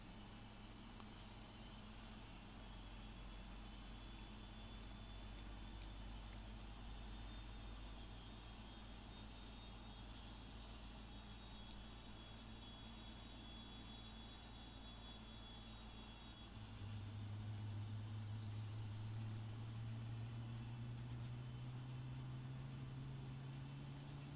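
A steady Boeing 777 jet engine drone in the Prepar3D v4 flight simulator hums throughout, then a rising whine builds as the engine spools up, growing louder near the end.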